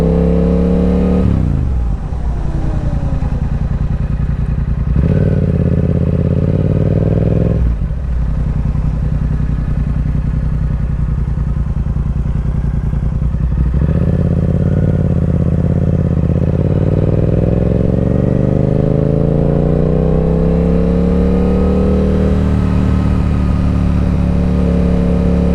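A Yamaha R7 motorcycle fitted with sintered brake pads rides along steadily, its engine droning loud and close with several drops and rises in pitch as the rider eases off and accelerates again.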